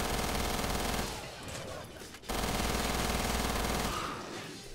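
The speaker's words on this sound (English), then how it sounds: "The fire rate mixed with the large drum magazine and that trademark typewriter sound" A drum-magazine gun fires in rapid, continuous automatic bursts in a co-op Resident Evil game mode, loud and dense with a brief gap in the middle, typewriter-like chatter.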